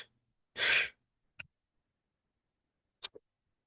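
A breathwork breathing cycle: one long, loud rush of air, then two short, sharp breath sounds spaced well apart, close up and alone with no talk, over otherwise silent stretches.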